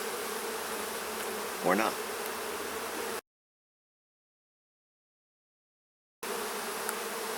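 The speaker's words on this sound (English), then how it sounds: "Lots of bees landing on me today for some reason." Honey bees buzz steadily around a beekeeper in a close, continuous hum, with one bee droning louder as it passes nearby; the sound cuts out briefly before resuming, and a voice says a couple of words.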